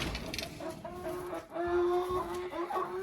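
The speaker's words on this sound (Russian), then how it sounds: "3 курочки Адлер серебристый" Silver Adler hens clucking close by, a few soft overlapping tonal clucks and murmurs in short bursts, with a brief rustle between them.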